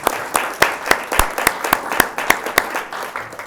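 A small audience at an evening talk gives a short round of applause: a steady, fairly close patter of claps at an even rhythm that runs for a few seconds and then thins out.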